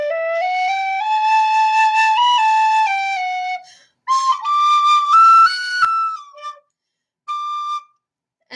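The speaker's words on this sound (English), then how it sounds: "this is my tin whistle in C" A tin whistle in C plays a bright, clear melody in phrases, with short pauses between them, close and loud with no talking.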